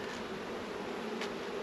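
Honeybees buzz at a hive in a continuous, dense drone that holds steady at moderate loudness from start to finish, with no talk.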